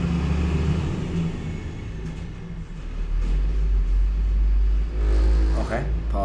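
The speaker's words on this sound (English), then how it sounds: "apologies for the big ass truck that just passed by" A large truck passing on a road outside, heavy low rumble swelling and lingering beneath a person talking over it.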